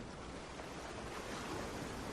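Ocean waves and surf wash in a steady, soft roar with no breaks between them, faint and continuous throughout, with a slight swell toward the end and no voices.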